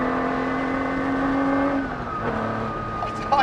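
A Ferrari 250 SWB restomod by GTO Engineering hums with a steady, tonal engine drone that dips and shifts pitch partway through, heard close and fairly loud without speech.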